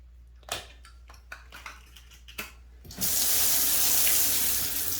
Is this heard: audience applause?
no